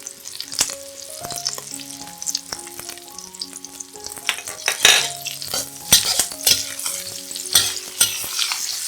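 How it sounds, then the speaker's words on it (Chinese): Stir-frying in a wok for a vegetarian char siu tofu rice dish after adding salt and sugar, with steady sizzling, repeated scraping and clanking of a spatula against the pan, and a faint melody playing underneath. "加入盐和糖，炒均匀。"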